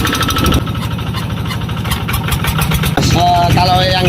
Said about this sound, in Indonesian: Pompa diputar dengan diesel.